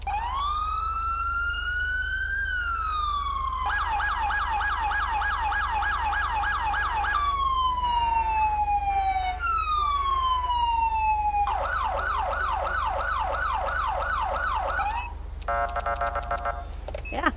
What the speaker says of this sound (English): So I got the Los Angeles police siren.